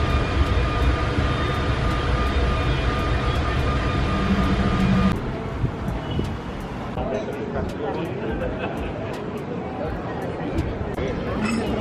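Rumble of a train rolling along the tracks in Italy, steady and continuous, dropping to a quieter ride midway, with rhythmic clicks.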